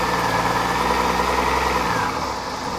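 A carburetted engine treated with Sea Foam fuel additive runs steadily at idle without the choke, a continuous close mechanical drone that holds even, then drops slightly in level near the end.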